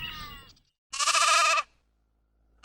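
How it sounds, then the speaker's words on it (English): A farm sheep bleats twice, first in a short wavering cry and then in a louder, longer, quavering bleat, close by and alone with silence between the calls. "Sheep,"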